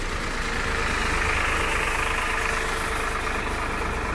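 A Ford 3700 tractor, 1993 model, idling at a tractor market in Moga: a steady, moderately loud diesel chug with a broad, even rumble that holds constant throughout, with no talk over it.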